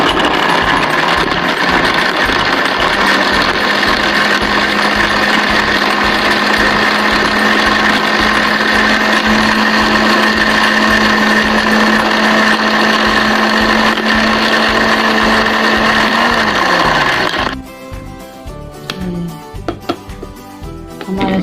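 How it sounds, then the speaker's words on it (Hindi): A kitchen blender grinds pieces of bread for khoya kulfi, a loud, steady high-pitched motor whine that runs continuously for most of the clip, then cuts off, leaving rattling and clattering of the jar. "इसमें ऐड करने के बाद हम इसे बंद करके अच्छी तरह से हम ग्राइंड कर लेंगे।"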